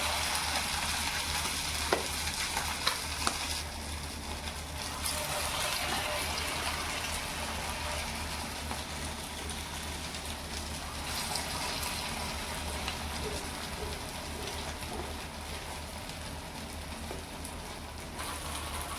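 Sabudana vadas deep-frying in hot oil give a steady, dense sizzle and bubbling hiss that runs unbroken and fairly loud throughout, with a few faint clicks near the start and no talking.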